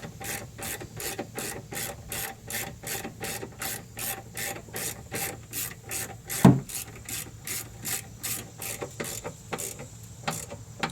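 A ratchet clicks steadily while tightening bolts on a Ford Edge transmission mount, a rapid, even series of sharp pawl clicks close to the microphone, with one louder knock partway through and no talking.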